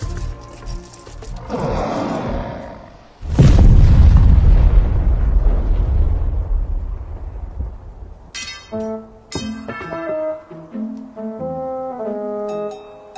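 Anime battle scene where suicide skeletons blow up: a sudden loud, deep explosion roars and rumbles away slowly, followed by bright tonal chiming sound effects, with no talk.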